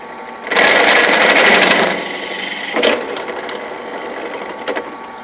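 A power drill whines steadily at close range drilling out an RC car's 17mm hex hub, then eases off into a lower running whir with a couple of brief catches, and no voices.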